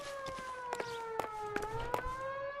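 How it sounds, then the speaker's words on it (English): A wailing siren in the L.A. Noire video game, a steady, moderately close tone rising and falling slowly, with scattered soft clicks and thumps underneath and no speech. "is that related to our case or just another random siren? It sounds close."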